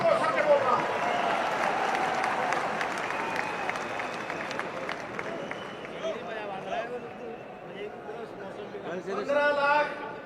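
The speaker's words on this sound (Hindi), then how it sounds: "ठोको ठोको ताली ठोको" Crowd applause and cheering roll through a packed political rally addressed by a politician, a steady wash of clapping and crowd noise running under a man's amplified speech throughout.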